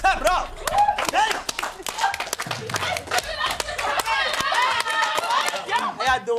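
An audience claps in quick bursts amid loud shouting and cheering at a lively, casual gathering, with voices talking and yelling over the applause throughout.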